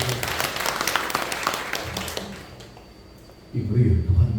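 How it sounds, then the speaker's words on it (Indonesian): Church congregation claps in a brisk burst of applause that fades out after about two and a half seconds, followed by a short pause before a voice resumes loudly. "Boleh tepuk tangan buat Tuhan kita Yesus."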